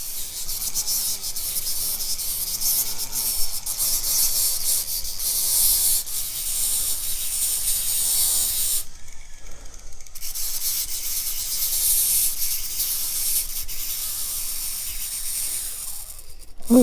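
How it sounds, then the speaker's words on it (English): A small flap wheel sands a part from a Morris Mor-Speed radial drill press during restoration, giving a steady close abrasive rubbing hiss that stops briefly midway and then resumes. "Little flap wheels work great."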